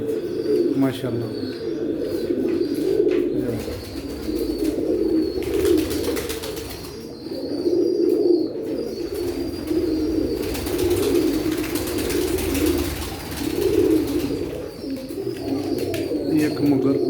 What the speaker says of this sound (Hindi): ये डैडी कबूतर देख लो माशाल्लाह।